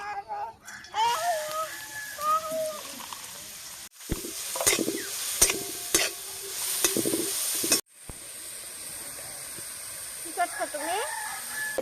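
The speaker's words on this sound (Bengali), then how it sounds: "এবার একটুখানি তেল দেব এবার গাজরটা ভেজে নেব" Carrots frying in oil in a pan, a steady sizzle with occasional stirring scrapes, moderately loud, interrupted by abrupt cuts; background rooster crowing and birds faintly audible.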